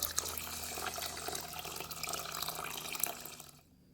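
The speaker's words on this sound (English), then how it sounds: "So I'm adding my cold water." Cold tap water pours into a rice cooker pot for steamed rice, a soft continuous splashing trickle that runs steadily and then cuts off abruptly near the end.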